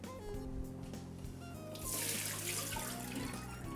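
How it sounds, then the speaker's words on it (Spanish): Tap water runs steadily over cut potatoes as starchy water is drained off and the potatoes are rinsed for homemade fries. The flow swells louder midway, with background music playing underneath. "La vamos a escurrir y las vamos a lavar."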